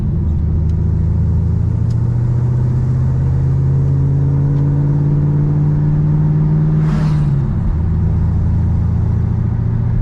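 Car on the road after a McLeod RXT clutch and RAM slave cylinder install, the engine humming steadily as it drives and climbs in pitch before a gear change near the end, loud and close with no talk.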